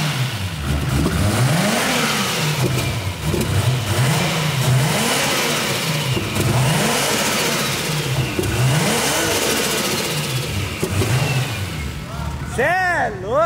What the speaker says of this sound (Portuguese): Abre lá o capô lá que eu vou acelerar pra você pegar o barulho